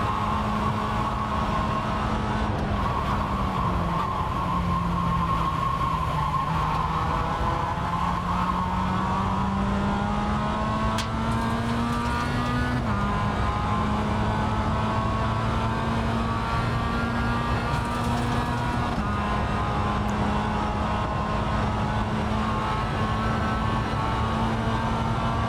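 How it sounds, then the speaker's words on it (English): Production race car engines in the iRacing sim, a continuous loud engine drone with rising and falling revs through gear changes, alone for the whole stretch. "Faster car approaching. They're racing us for position."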